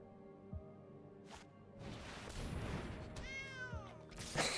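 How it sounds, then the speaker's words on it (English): A massive saber-tooth card in the Magic: The Gathering video game lets out a drawn-out, rising-and-falling cat meow in the middle of the clip, sounding over a dense bed of game background noise and effects. "It's a massive saber tooth, and it just goes meow."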